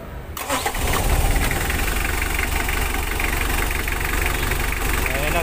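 A Mitsubishi L300 engine starts and settles into a steady, loud idle with a fresh rocker arm shaft fitted, running continuously and evenly throughout.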